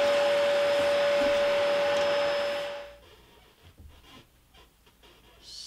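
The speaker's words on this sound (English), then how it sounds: "let's hoover all this muck up" A vacuum cleaner sucks up wood shavings from thicknessing a guitar bridge blank, running loud and steady for about three seconds before switching off and winding down, with faint workshop shuffling afterward.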